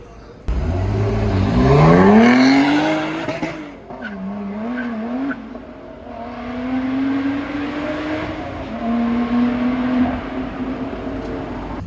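A car strung with LED lights passes on a Budapest street at Christmas, its engine loud and close as it revs up with a rising whine and tyre squeal, then settles into a steadier hum as it moves on.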